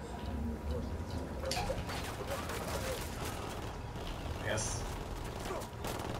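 Gunfire in Ghost Recon Wildlands during a forest firefight: rapid bursts of rifle shots with sharper volleys at a couple of points, over a busy game ambience, with someone talking briefly.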